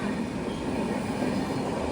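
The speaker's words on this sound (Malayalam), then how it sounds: "ഇത് വീക്ക്ലി ട്രെയിനാണ്." Gurudev Express, a weekly sleeper-class train running via the Konkan route, rumbles steadily along with a continuous broadband roar and low rolling drone, heard from inside at even volume with no talk.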